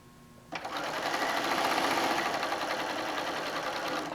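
A sewing machine stitches straight through a pieced quilt top, starting abruptly after a brief quiet moment and then running as a steady, close, continuous buzzing whir until the end.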